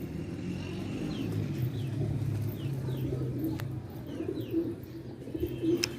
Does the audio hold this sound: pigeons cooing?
yes